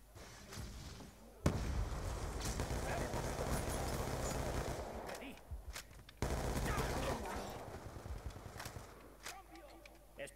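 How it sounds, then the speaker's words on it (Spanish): Call of Duty video game combat with a sudden grenade blast and bursts of rapid gunfire, two loud explosive onsets each trailing into crackling shots, with voices talking at points. "Conmocionadora, conmocionadora, va una granada."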